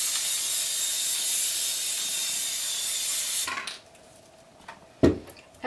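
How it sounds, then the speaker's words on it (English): Spray adhesive can hissing steadily and close for about three seconds while basting quilt layers, then cutting off, followed by soft handling and rustling of fabric. "Give your can a shake and give it another spray."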